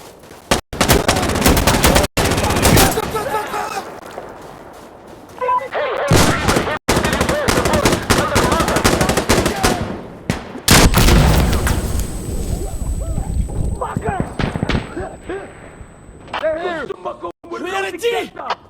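Gunfire in the video game Insurgency Sandstorm, with loud, continuous bursts of automatic rifle fire and heavy shots during a firefight, broken by brief pauses and mixed with shouting voices.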